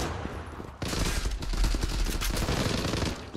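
Dense automatic gunfire in the Turkish online shooter Zula, a sudden burst after a quieter moment that then keeps up as continuous rapid shots close by, with no talk over it.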